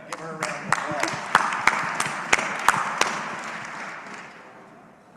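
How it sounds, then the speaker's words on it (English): A small audience at an agriculture day event gives a round of applause: a few sharp, separate hand claps in an uneven rhythm that thin out and fade after a few seconds, with faint voices beneath. "Give her a round of applause."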